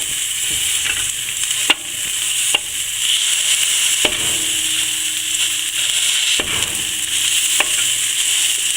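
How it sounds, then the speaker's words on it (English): Corned beef sizzles steadily as it fries in a pan while being broken up, with a constant loud hiss and occasional scraping clicks of a utensil stirring, close by with no talking. "We'll break the corned beef up."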